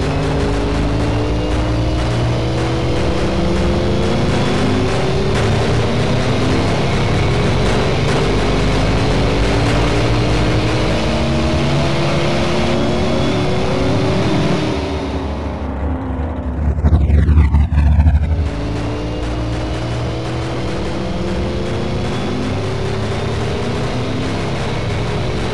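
A twin turbo pro mod drag car in the Doorslammers 2 racing game gives a sustained, loud engine roar, with a brief swooping pass and pitch sweep around the middle before the steady drone resumes.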